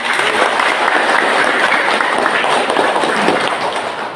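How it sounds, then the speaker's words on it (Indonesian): Crowd applause at a joint political campaign event for two speakers, a dense continuous patter of many hands clapping at once, steady and fairly close throughout. "Kita berikan tepuk tangan untuk keduanya."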